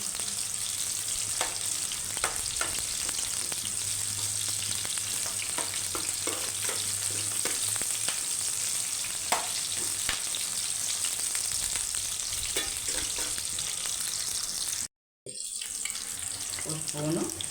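Fish curry of jalla fish cooking in a pan, with a steady sizzling and frying hiss running throughout, plus occasional scraping and stirring, briefly cut out near the end.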